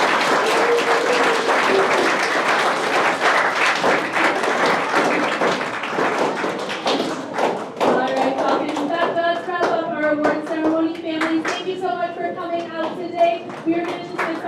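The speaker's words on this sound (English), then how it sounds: "Let's give one more round of applause." Students and families applaud at a 6th grade award ceremony, with dense, steady clapping from a large crowd that fills the room and tapers slowly while voices come through toward the end.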